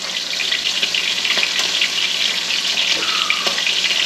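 Catfish frying in hot oil makes a loud, continuous bubbling sizzle that sounds almost like rushing water, with small pops and crackles scattered through it.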